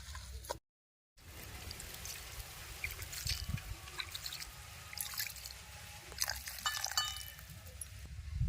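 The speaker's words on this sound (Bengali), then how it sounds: "এবার পরিমাণ মতো জল দিয়ে দেবো" Water being poured into a pan of leafy greens, a soft continuous trickle and splash that runs for several seconds after a brief silent gap, fairly faint and close.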